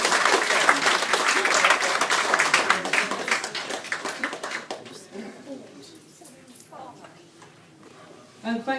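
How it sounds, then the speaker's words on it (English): An audience at a comedy impressions show claps loudly to welcome a performer, the dense applause fading away after about five seconds into a quieter room with scattered sounds. "So give him a round of applause, make him as most welcome as you possibly can"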